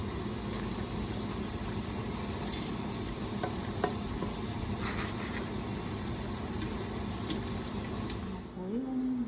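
Biko, a sticky rice cake, is stirred and scraped in a pan, giving a steady close sizzling, scraping churn with faint clinks that runs nearly the whole time and ends briefly with a soft rising tone.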